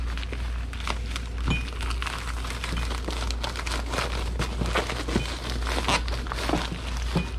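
Items are folded and stuffed into a padded flat rate shipping envelope, making continuous close crinkling, rustling and crumpling with scattered sharper crunches throughout.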